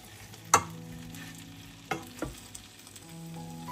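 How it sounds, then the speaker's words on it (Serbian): Cabbage fries in a pan, a quiet low sizzle broken by a few sharp scraping knocks as it is turned over with a utensil. "Okrećem kupus na drugu stranu i nastavljamo da pržimo."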